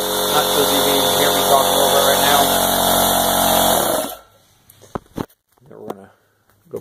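An older dual-tank Husky air compressor runs with a loud, harsh mechanical drone for about four seconds, then shuts off, leaving quiet room sound with a few scattered small knocks and clicks.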